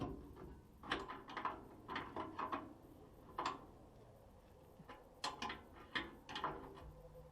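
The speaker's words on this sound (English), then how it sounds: "Now as I'm tightening the bolt, it's actually pulling the bolt in." A wrench tightening a leaf-spring bolt on a boat trailer axle gives quiet, close ratcheting clicks in short irregular bursts, with brief pauses between strokes and a low background hiss.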